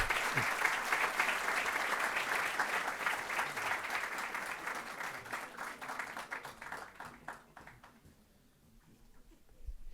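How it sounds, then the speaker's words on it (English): An audience applauds a distinguished guest at a university meeting of the School of Management and Social Sciences, Universidad ORT Uruguay: dense, steady clapping from many hands for about eight seconds, then thinning out and fading near the end. "So please give an applause to our distinguished guest."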